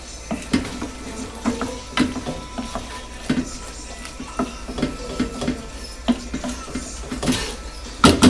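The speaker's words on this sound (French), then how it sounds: "Je vais les mélanger ensuite avec la sauce." Cooked gnocchi are stirred into tomato sauce in a pan with a spoon, giving soft wet squelches and light scraping taps at an irregular rhythm, close and moderately loud.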